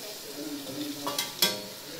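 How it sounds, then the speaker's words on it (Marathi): Tomatoes cut into long strips drop into a pan of softened, fried onions, producing a soft, steady sizzle with a couple of brief stirring scrapes. "आता आपण टोमॅटो टाकणार आहेत।"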